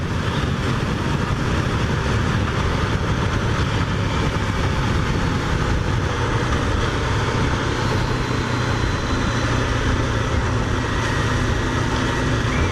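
Engine of a 2016 Honda CB500F motorcycle while riding, a steady, continuous drone under heavy road and wind noise with no clear changes in pitch or speed.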